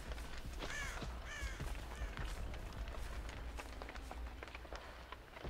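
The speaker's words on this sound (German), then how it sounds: "Ach, du blöder Rabe." A raven in a video game gives a couple of harsh, moderately loud caws early on, over a steady game ambience with soft running footsteps.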